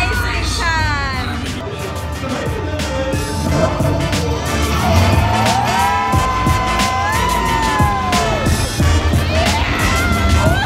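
A theme park race car ride in the evening, with cars speeding past amid a loud, dense wash of engine-like whines, swooping tonal effects and crowd noise, and people talking throughout.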